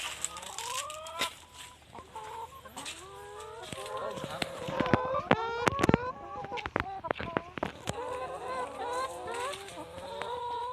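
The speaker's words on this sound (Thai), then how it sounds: "นี่ก็คือ ไก่ที่เลี้ยงไว้ บริโภคภายในฟาร์มนี้นะครับ" Chickens raised for food on a village farm in Si Sa Ket, Thailand, cluck and squawk repeatedly close by, with a sharp burst of calls midway, while someone talks over them.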